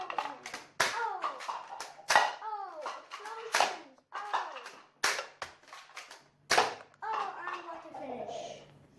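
Nerf blaster firing foam darts at a target, a series of sharp snapping shots spaced through the stretch, with a voice talking between and over them.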